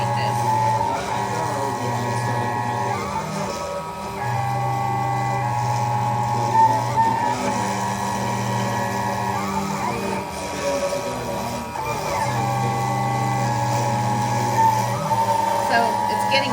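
A Genmitsu CNC 6050 router cuts plywood with a steady whine that shifts in pitch as the toolpath changes, and a low hum runs underneath. People talk over the machining throughout.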